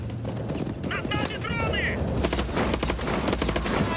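Rapid gunfire bursts in the shooter game Call of Duty Advanced Warfare, dense repeated shots under a male player's voice talking over the action, with a brief electronic chirp among the firing.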